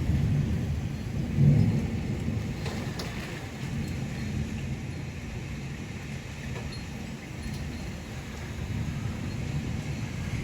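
Texas thunderstorm with steady rain and wind, a continuous low rumbling roar with gusts and rain hiss throughout, no voices.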